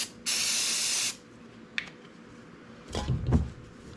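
Spray cleaner hits a ring gear during a traction repair in one sharp, close hiss lasting under a second. Faint clicks and a low rustling handling noise follow.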